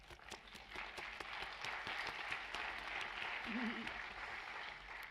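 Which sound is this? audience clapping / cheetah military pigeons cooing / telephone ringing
audience clapping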